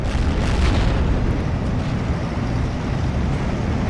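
A heavy bomb dropped by a bomber in Steel Division 2 rumbles in a deep, sustained roaring explosion, loud and close, holding a steady low boom for several seconds without a clear single impact onset.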